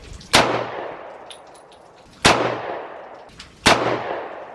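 Three loud, sharp pistol shots from a Smith & Wesson M&P 2.0 in 10mm firing aluminum-case 200-grain Blazer ammunition, spaced unevenly about one to two seconds apart, each with a ringing decaying tail outdoors.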